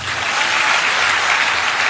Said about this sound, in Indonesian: Tepuk tangan dong biar saya juga semangat